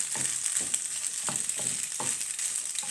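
Plain white pasta sizzles steadily in a hot frying pan while being stirred, with a continuous bright hiss broken by soft scraping knocks of the utensil at irregular intervals, close up and fairly loud.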